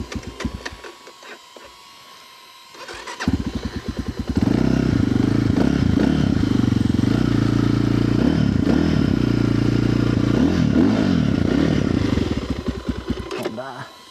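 A dirt bike engine runs cold while warming up, a steady loud rumble starting a few seconds in and holding to the end, with some clatter and a voice talking over it early on.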